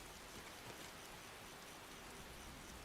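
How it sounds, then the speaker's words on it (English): Steady rain falling in the Skyblivion game world, an even, dense hiss of drops that holds constant throughout with no other sound rising above it. "probably because it's raining"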